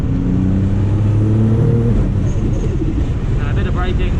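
A Nissan GT-R engine revs hard under acceleration through a chicane on a drift track, heard onboard as a loud, steady roar with climbing harmonic tones and a faint voice underneath.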